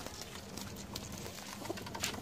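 Soft cooing of high-flyer breeder pigeons sits low in a noisy, hissy background, faint and continuous with occasional brief rustles.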